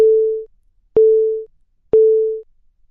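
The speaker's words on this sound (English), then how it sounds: "You will hear a repeated gonging sound and feel a vibration." A LifeVest wearable defibrillator sounds its startup alert: three evenly spaced gong-like tones, each a sharp strike fading over about half a second, with short silences between and no other sound.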